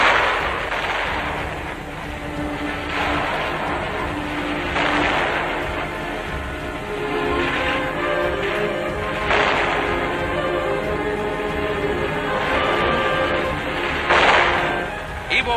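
Gunfire during the 1945 Battle of Iwo Jima: dense, continuous battlefield noise packed with repeated sharp cracks and heavy thumps, loud and sustained without a break.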